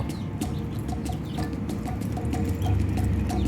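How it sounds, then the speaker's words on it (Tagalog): Chickens cluck repeatedly in short soft bursts over a steady, noisy outdoor background. "nalapitan na lang ako ng mga manok."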